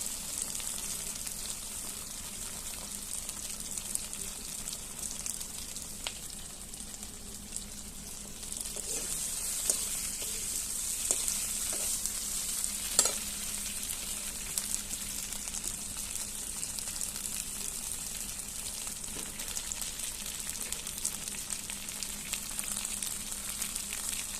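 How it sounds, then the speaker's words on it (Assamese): Fish curry with elephant apple, potatoes, ginger, garlic and onion sizzles steadily in a pan, a continuous close hiss with a few scattered utensil taps. "ভালদৰে লৰাই দিছোঁ যাতে আদা, নহৰু আৰু পিঁয়াজ ভালদৰে আলু আৰু ঔটেঙাত লাগে"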